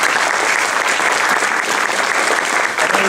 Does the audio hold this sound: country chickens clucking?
no